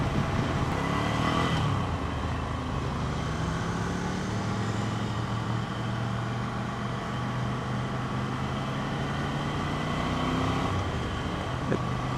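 A Ducati Scrambler Cafe Racer's V-twin motorcycle engine drones steadily throughout, a low throbbing rumble with wind noise, rising slightly in pitch as it accelerates while riding.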